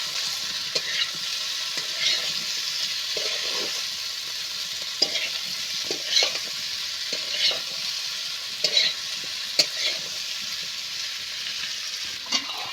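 Potato and green banana stir-fried in a pan, a continuous close sizzle with regular spatula scrapes and taps against the pan throughout, with no voices.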